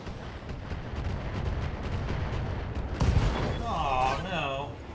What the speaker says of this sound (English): Oh no. Ammo explosion.